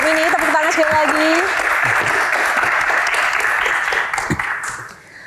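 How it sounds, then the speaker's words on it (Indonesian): A loud, dense round of audience applause at an award Q&A event, close and sustained, with a brief amplified voice at the start, tapering off near the end. "Tepuk tangan sekali lagi"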